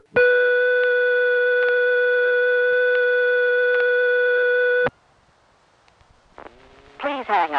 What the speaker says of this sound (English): The dial tone is replaced by high tone.